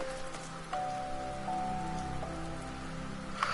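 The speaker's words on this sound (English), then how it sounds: "It's raining, it's pouring." Rain falls steadily in Final Fantasy XIV, a soft, even hiss of drops over the game world, with faint tonal chimes of game sounds drifting in and no talking.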